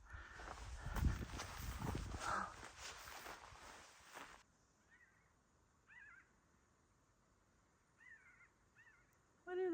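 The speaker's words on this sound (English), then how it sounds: "What are those birds I hear?" Several short, distinct bird calls ring out from a distance in a quiet, dense forest, following a stretch of loud rushing noise and footsteps near a stream crossing.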